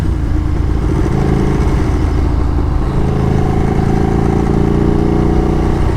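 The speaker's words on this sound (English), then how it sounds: "This thing is the scariest motorcycle I've ever been on." Ducati Streetfighter V4 motorcycle fitted with a Termignoni exhaust and carbon parts, a steady deep engine rumble idling and lightly revving close by, loud and continuous with no talk.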